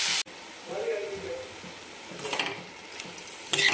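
Chopped spring onion greens drop into a hot pan with cumin and sizzle as they are stirred, crackling bursts rising near the end over a steady low fry, with a voice speaking faintly in places.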